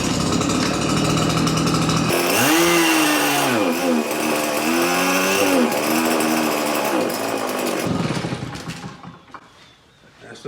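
A small gasoline engine on power equipment runs loudly with a rough, wavering note that surges and sags, then cuts out and dies, leaving quieter background sound.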